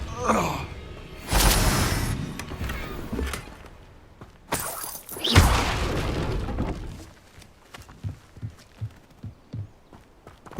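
Fire spell cast in the Hogwarts Legacy video game: a loud whooshing burst that swells and fades, followed by a second strong blast and then a run of short, rhythmic thuds.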